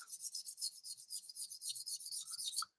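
A Takeda knife bevel slides back and forth on a whetstone in a steady rhythmic rasp, about two dozen quick strokes, close and quiet, stopping near the end.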